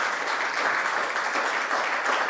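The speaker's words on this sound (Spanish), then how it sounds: "¿Podemos dar otro aplauso a nuestro Dios?" A church congregation claps together in steady, dense applause that carries on without pause for the whole stretch, fairly loud and filling the room with no voices standing out.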